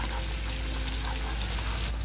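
Boiled water pours steadily into a cooking pot in a continuous, close, even splashing rush that runs the whole time with no talking.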